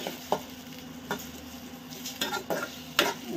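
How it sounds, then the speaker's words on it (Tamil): Tomatoes and small onions sautéing in a pan make a low sizzle, broken by a handful of scraping stirs and light utensil clinks against the metal. "தக்காளியை வதங்கட்டும்."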